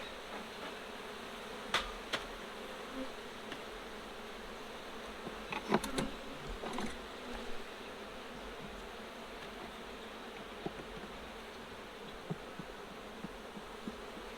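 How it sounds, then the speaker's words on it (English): Honeybees drone in a dense, steady buzz while a hive's bottom box is opened for inspection, with a few sharp clicks and knocks from hive tools and frames. "A lot of bees."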